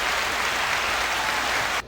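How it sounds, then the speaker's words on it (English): A round of applause, steady and dense, fills the whole short stretch at constant loudness before cutting off abruptly at the end, with no voices over it. "I want to give a round of applause and RIP to Demaryius Thomas"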